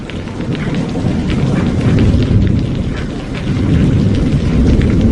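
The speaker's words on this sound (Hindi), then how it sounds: "जोरों की हवा चलने लगती है और हवा के साथ साथ जोरों से बारिश होने लगती है।" Heavy rain pours down steadily with deep rumbling thunder rolling underneath, loud and continuous throughout, with no voices.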